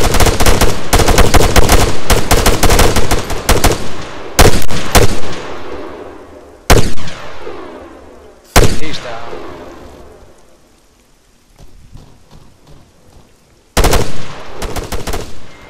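Gunfire in the military shooter ArmA 3: dense bursts of automatic weapon fire at the start, then sharp isolated shots with long echoing tails fading into quieter gaps, a final loud burst near the end.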